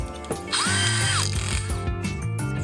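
A drill chuck is tightened onto a drill bit in a workshop, giving a close, steady run of ratcheting clicks with a brief whining tone, and no one speaks.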